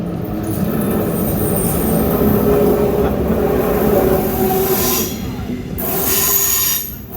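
Deutsche Bahn ICE-L train arriving at a platform, a loud rolling rumble with high metallic wheel squeal over it, easing and then surging again near the end.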